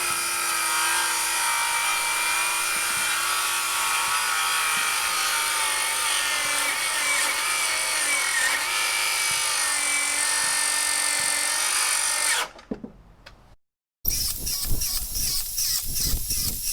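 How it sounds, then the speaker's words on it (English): Metabo HPT MultiVolt 36V cordless circular saw cutting through a 4x6 under deliberate overload, a loud, steady, close whine that drops away abruptly as the saw stalls and stops, followed by a brief silence and then rattling clatter. "This 4x6 overload test was designed intentionally to overwork the saw and test the motor's overload protection and kickback feature"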